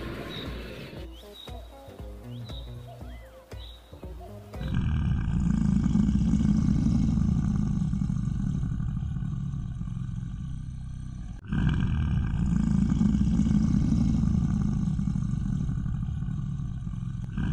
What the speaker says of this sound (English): Look at this mighty crocodile.